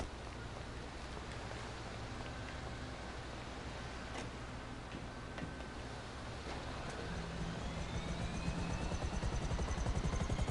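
A helicopter flies in GTA Online, a steady rotor drone with rhythmic ticking that grows slightly louder toward the end, continuous and without speech.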